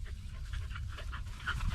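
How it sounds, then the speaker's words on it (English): Several dogs pant rapidly and steadily outdoors on a horse ranch, a soft continuous rhythmic breathing close by, fairly quiet with no talking. "Dogs are having fun."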